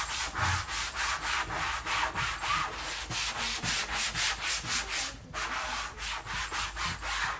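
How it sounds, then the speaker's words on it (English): 120 grit sandpaper rubbed back and forth over chalk-painted fabric, a steady rhythmic scratchy rasp repeating in close, even strokes with no talking. "I usually use a 120 grit sandpaper and all I do is just sand straight over the fabric."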